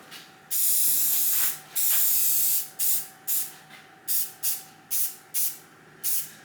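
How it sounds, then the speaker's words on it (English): A spray can or gun coats a vintage Shopmaster jointer stand with paint: two long hissing blasts are followed by a quick run of about seven short, evenly spaced bursts, all close and loud. "So I don't have to worry about overspray very much that gets on the stand."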